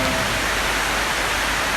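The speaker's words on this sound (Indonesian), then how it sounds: "dalam suasana hujan ini" Steady heavy rain forms a dense, even hiss with no breaks and no voices, close and loud throughout.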